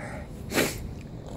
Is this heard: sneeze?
yes